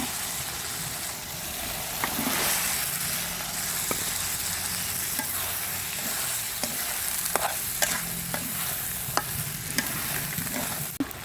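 Chickpeas sizzle and fry in hot spiced oil in a pan while being stirred, a constant crackling hiss broken by scraping spoon strokes, close up with no talk.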